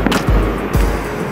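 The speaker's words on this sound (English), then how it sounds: "you can hear all the fireworks going off in the background." Fireworks thud and boom outside in Hunan, China, a few heavy low bangs over a steady wash of rain noise, no voices.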